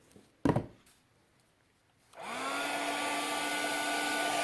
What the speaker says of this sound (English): Heat gun first.